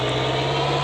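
A car engine runs steadily in the Kar Krash Simulator video game, a short, even, loud hum with no talk over it.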